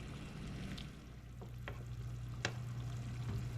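Pineapple chicken sauce simmering and thickening in a pan, a low steady bubbling hiss with a constant hum beneath and a few faint clinks, quiet and continuous throughout.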